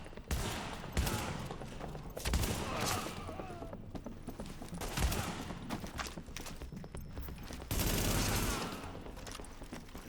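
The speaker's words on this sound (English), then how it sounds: "Super 90 shotgun for the win." A Super 90 shotgun in the video game The Division fires several heavy, booming blasts spaced a few seconds apart, mixed with other gunfire and game noise at moderate volume.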